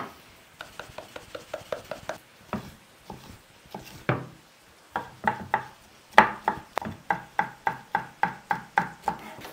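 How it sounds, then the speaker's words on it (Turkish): Red pepper being finely chopped with a knife on a board, a steady run of crisp, close knife strikes in quick rhythmic bursts with brief pauses between. "Bunu da aynı şekilde küçük küçük doğrayacağız."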